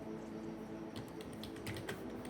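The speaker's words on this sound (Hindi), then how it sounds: "जैसे मैं यहाँ पे टाइपिंग स्टार्ट कर देता हूँ" Fingers tap on a computer keyboard while text is typed into Photoshop, producing quick clusters of soft, close clicks over a steady background hiss.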